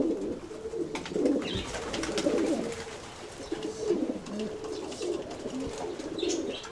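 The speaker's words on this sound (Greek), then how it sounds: "Αυτά είναι τα περιστέρια, οι πρωταγωνιστές αυτού του έργου" Pigeons coo repeatedly nearby in soft, low, throaty calls, overlapping one another with faint chirps in the background.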